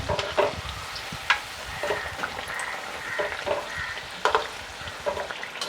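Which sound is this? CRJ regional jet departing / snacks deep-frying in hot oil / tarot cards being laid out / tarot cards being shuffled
snacks deep-frying in hot oil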